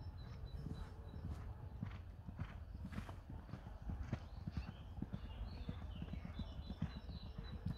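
Several horses walk along, hooves clip-clopping in a steady, uneven rhythm at moderate distance, with faint outdoor background noise and brief bird sounds.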